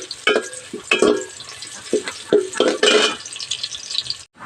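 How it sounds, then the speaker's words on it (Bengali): Chopped onion hits a hot pan and fries, sizzling in bursts while being stirred, with scraping knocks of the spoon, close and loud. "আর এবার দিয়ে দেব কুচি করে রাখা পেঁয়াজ।"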